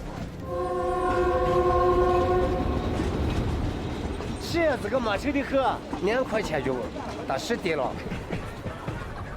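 A train at a village station platform in the Liangshan Yi Autonomous Prefecture sounds a long horn, then people talk over the rumble of the idling train.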